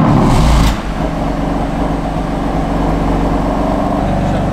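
BMW M4 with a Stage 1 tune starting with its exhaust valves closed: a brief loud starter whir and flare, then a deep steady rumbling idle held low and even.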